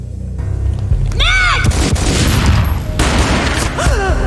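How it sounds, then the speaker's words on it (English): Gunfire rings out in the action video game Max Payne, with booming shots and rumbling low-end impacts layered among swooping game effects and brief vocal sounds, loud and dense throughout. "A gunshot boomed and she fell down in slow motion"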